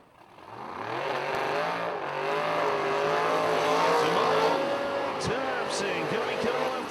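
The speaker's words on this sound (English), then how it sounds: "The 80 Camaro over there, 327 cubic inches of Jensen engine technology on board." A 1980 Camaro drag racer with a 327 cubic inch engine and nitrous roars steadily at a race meet, loud continuous engine drone with rising and falling pitch, a brief squeal near the end.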